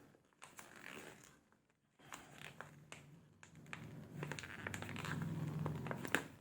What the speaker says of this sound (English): Let me just see if I can open this without tampering the sticker.